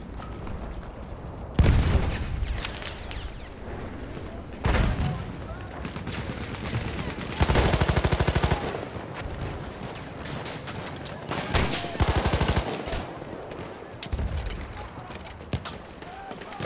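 Rapid bursts of SMG gunfire in the first-person shooter Battlefield 1, several loud volleys with clattering shots and booms spread across the stretch, mixed with game ambience and occasional voice.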